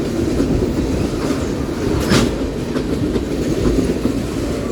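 A Norfolk Southern manifest freight train made up mostly of tank cars rolls past close by, with a loud, steady rumble, rhythmic wheel clatter and a brief metallic squeal.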